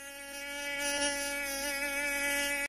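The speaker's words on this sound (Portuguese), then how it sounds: "o pernilongo começa a buzinar na sua orelha" A mosquito whines close to the ear, a steady high-pitched buzz with many stacked overtones that wavers slightly in pitch and holds for about three seconds with no other sound.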